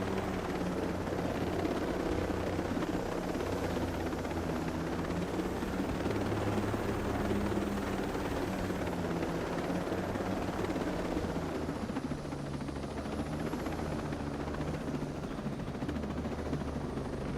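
A helicopter in the video game Ghost Recon Breakpoint roars continuously with a dense, steady rotor and engine drone that barely changes, loud and close throughout with no talking.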